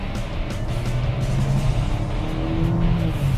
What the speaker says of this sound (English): let's try and accelerate just a little bit, and see how fast this machine can take us